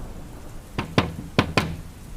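Someone knocks on a door at night, two pairs of dull wooden raps in quick succession, near and distinct over a faint background hiss, with no voices.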